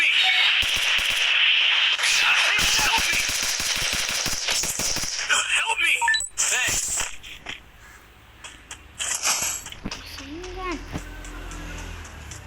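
Rapid bursts of gunfire in a shooting video game, loud and close with sharp repeated cracks, heard under excited shouting from a player.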